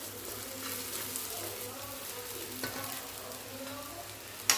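Soaked sabudana being stirred in a pan with roasted potato and peanuts, a steady close sizzle and frying hiss with scraping stir sounds throughout and a sharp clink near the end.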